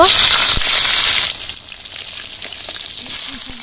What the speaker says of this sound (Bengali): মাছ ভাজা তেলের মধ্যে বেগুনটা এবার ভেজে নেব